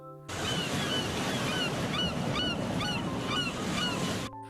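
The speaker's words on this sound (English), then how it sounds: "the logo is seen as sounds of seagulls chirping and waves crashing play" Seagulls cry in short repeated calls over a steady roar of ocean waves crashing on the shore, loud and continuous with no talking, accompanying the closing logo of SpongeBob SquarePants.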